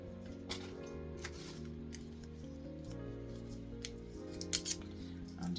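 Sharp scissors snip through a flower stem in a few quick, close cuts, set against steady background music.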